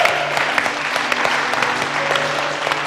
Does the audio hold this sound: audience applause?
yes